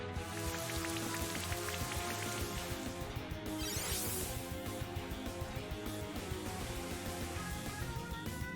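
Rain from the Rain Dance move in the video game Pokemon Brilliant Diamond: a dense, continuous patter of raindrops mixed with game music, steady and fairly loud throughout, with no talking.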